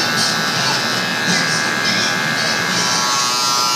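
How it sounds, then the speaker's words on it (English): Cordless Wahl 100th anniversary edition hair clippers buzz loudly and continuously up close during a low skin fade at a barbershop, a steady electric hum with no talking. "Next I use my cordless Wahl clippers that are um, the 100 edition, 100 year edition, 100 anniversary edition"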